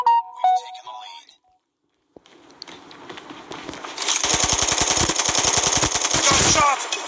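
Rapid machine-gun fire rattles in a Call of Duty match: a dense, loud burst of evenly spaced shots lasting a couple of seconds, preceded by brief game sounds and a voice talking.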